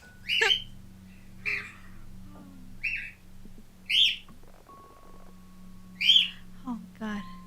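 Pet birds chirp indoors in short, bright bursts roughly once a second, close and fairly loud over a steady low household hum, with a faint tone running beneath.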